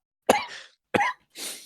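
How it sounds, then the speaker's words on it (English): Three sharp, close coughs from a podcast host, the first two strong and quick, the last a softer, breathier hack after a short pause, with no talking. "I apologize about me coughing"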